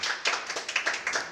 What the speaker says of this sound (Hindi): इनके लिए भी जोरदार तालियां हो जाए यहाँ पे